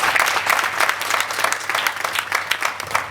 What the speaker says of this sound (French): le cercle de famille applaudit à grands cris.